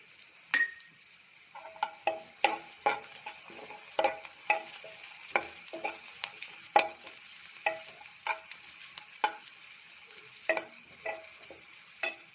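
Onions and turmeric being sautéed in a pan for a Tamil Nadu style cabbage poriyal, with a steady frying sizzle and repeated sharp scrapes and clinks of a spoon stirring against the pan, close and alone.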